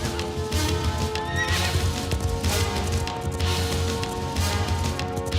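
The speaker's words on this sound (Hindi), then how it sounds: "नक्शे की रक्षा के लिए मैं अपने घोड़े पर सवार होकर निकल गया" A horse gallops with rapid clip-clop hoofbeats and lets out loud whinnies in a film sound effect, fairly close and steady throughout.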